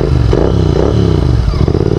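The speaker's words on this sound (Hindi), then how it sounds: "जो रेड रूस्टर की पुरानी वाली आवाज़ आती थी ना, वो इस ऑफ ट्रेल वाले एग्जॉस्ट में फ़िलहाल आ रही है" Royal Enfield GT 650 with a loud, bassy OffTrails aftermarket exhaust, a close, continuous deep engine rumble with throttle rises and crackling, fluttering texture throughout.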